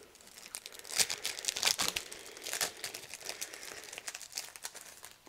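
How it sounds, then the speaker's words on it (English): A Beyond Paper Flowers craft kit package is opened, with close crinkling and tearing of plastic or paper wrapping in irregular bursts, fairly quiet and with no talking. "Let's go ahead and open up this Beyond Paper Flowers"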